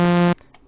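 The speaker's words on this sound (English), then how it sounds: "So this is the default saw now" A default sawtooth-wave synthesizer tone plays as a single bright, buzzy sustained note for about a third of a second, then cuts off abruptly into near silence.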